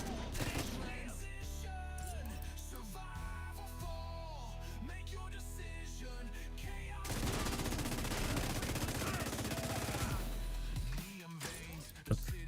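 Light machine gun fire in the video game The Division 2, sustained rattling bursts mixed with other game sounds, getting denser and louder partway through, with a voice talking over it at times.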